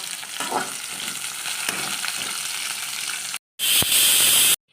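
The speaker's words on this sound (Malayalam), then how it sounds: "ഉള്ളി പച്ചമുളക് ഇട്ട് നന്നായിട്ടൊന്ന് വഴറ്റി കൊടുക്കണം കേട്ടോ" Onion and green chillies sautéing in hot oil in a pan, a close, loud, hissing sizzle with stirring that briefly cuts out, then returns even stronger.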